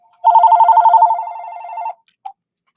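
A telephone ringing with a loud, close electronic trill that warbles steadily for about two seconds, followed by a brief faint blip.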